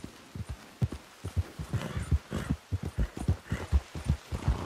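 A horse gallops in Red Dead Redemption 2, its hooves drumming out a steady, close, rhythmic beat of low thuds in quick triplet groupings, with no talking over them.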